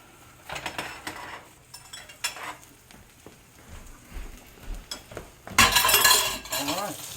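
Sausages go back into a frying pan beside eggs: soft sizzling with scattered clinks and scrapes of a utensil against the pan, ending in a louder burst of sizzle and clatter close by.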